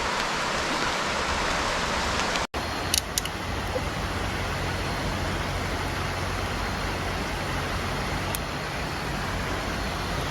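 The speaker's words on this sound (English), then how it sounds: "Light rain." Steady light rain hisses continuously at a campsite on the Appalachian Trail, close and even, with a brief knock partway through.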